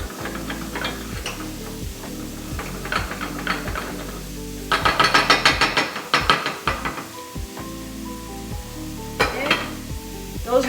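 A spoon scrapes and knocks around a pot of grits in a quick, uneven rhythm of taps and scrapes, with bursts of sizzling from a pan nearby; close and fairly loud with no talk.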